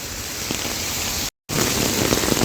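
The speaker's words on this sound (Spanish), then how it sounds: "me salí a la calle para registrar este momento que está lloviendo durísimo" Heavy rain pours down on a street in Jardines de Morelos, a dense, constant hiss of a cold downpour, close and loud, with a brief dropout in the middle.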